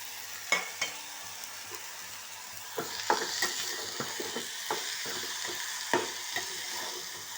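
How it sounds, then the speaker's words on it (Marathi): Washed rice being dry-roasted in a pan for varicha bhat, a quiet continuous sizzle with intermittent scraping taps of a spoon stirring, close and fairly faint, no talk. "आपण ह्याला आता छान भाजून घेऊया."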